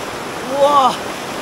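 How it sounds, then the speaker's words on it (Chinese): A waterfall in Indonesia gives off a steady rushing wash, while a person lets out a brief excited exclamation over it. "那边就是瀑布。"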